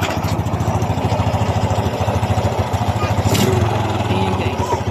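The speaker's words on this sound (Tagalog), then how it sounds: "Ito yung makina guys, pagkatapos natin siyang maparibor at mapalitan ng piston, pakinggan nyo kung mayroon makababago." The engine of a Honda XRM 125 motorcycle idles after its cylinder was rebored and its piston replaced, producing a close, loud, evenly pulsing putter. A voice is partly heard over it.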